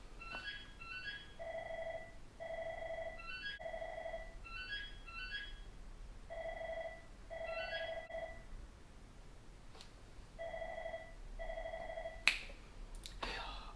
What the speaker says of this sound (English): I'm going to click back in after the phone stops ringing.